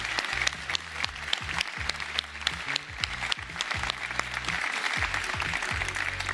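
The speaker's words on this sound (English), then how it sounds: "Another awkward clap." Applause breaks out at the Ubisoft Forward 2024 showcase, a dense, steady clapping from an audience that carries on through the whole stretch at a moderate level with no voices over it.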